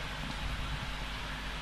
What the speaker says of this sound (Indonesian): Alhamdulillah barokah malam ini bersama turunnya hujan.